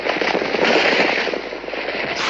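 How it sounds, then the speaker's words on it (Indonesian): A landslide sound effect of earth and rock giving way, rendered as a loud, dense crackling rumble that runs continuously for a couple of seconds with no voices. "Sepertinya suara tanah longsor."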